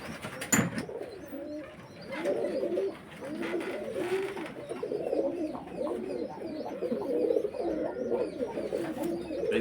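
Pigeons coo steadily in a loft in Trichy, many soft overlapping calls rolling on close by, with one sharp thump near the start.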